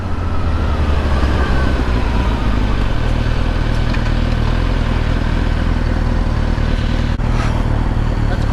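A Suzuki GSX-R1000 motorcycle riding through Times Square in New York City gives a steady, loud, close engine rumble against a dense street-traffic background, with a short clatter near the end.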